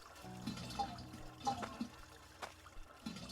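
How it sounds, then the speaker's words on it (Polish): Water flowing through a pipe machine in the mining game Hydroneer, a quiet trickling and gurgling with soft irregular splashy pulses and faint clicks. "Nie, no leci woda."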